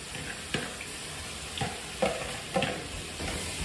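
Mixed potato sizzles steadily in a hot pan for Indian street-food fries, with a few louder scraping stirs breaking through at intervals; no voices.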